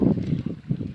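Wind rumbles in low gusts across the Padma river, buffeting the microphone with a steady roar during cast-net fishing.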